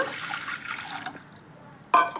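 Water pours from a glass into a cooking pot for about a second, then a quiet pause before a short, sharp clatter.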